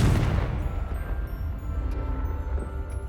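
A Confringo spell blast in Hogwarts Legacy, a loud booming burst at the start that rumbles on as a decaying low roar, with a few faint magical chimes after it.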